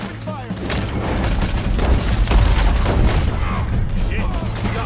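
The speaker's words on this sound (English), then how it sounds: "Open fire." Shootout in the video game Red Dead Redemption 2, dense overlapping gunshots crackling and booming loudly in rapid succession throughout, with faint voices mixed in.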